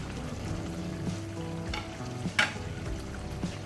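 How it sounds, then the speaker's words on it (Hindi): Finely chopped green chilies fry in hot oil in a pan of chicken masala, giving a low, even sizzle with a faint hum beneath and a few soft clinks and one brief scrape, no voices. "अब हम इस स्टेज पे आके इसमें डालेंगे 3 अदद हरी मिर्चें"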